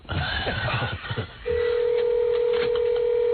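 A telephone on a 1994 radio show gives a short burst of touch-tone beeps, then a steady unbroken tone that rings on loudly to the end.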